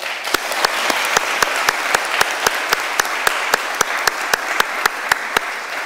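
Audience at an academic workshop applauding together in a rhythmic, evenly paced unison clap, about three sharp beats per second over a bed of scattered clapping, steady throughout.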